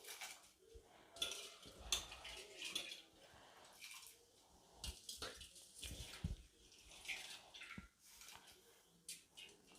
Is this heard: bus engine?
no